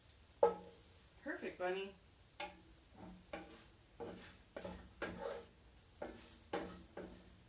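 Matzah brei, matzah soaked with eggs, fries in a pan with a faint, steady sizzle and occasional stirring, mostly beneath a child and an adult chatting in a home kitchen.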